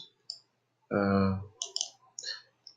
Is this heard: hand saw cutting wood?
no